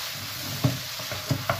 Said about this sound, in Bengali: এই যে মাস্টার শেফে নাড়াচাড়া দিচ্ছে।